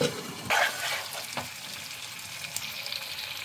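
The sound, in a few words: meat being fried (kosha) for Kolkata-style biryani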